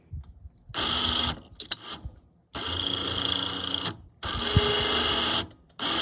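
A 12-volt ATV winch, handle-switched and mounted on an off-grid solar power wagon, runs in three loud bursts of steady motor whine with short silent gaps between, heard up close.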